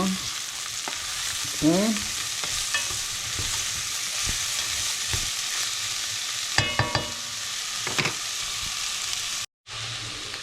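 Bell pepper and celery sizzle in a frying pan while being stirred around, with steady frying hiss and repeated clattering scrapes of the utensil, a short spoken word, and a brief dropout near the end.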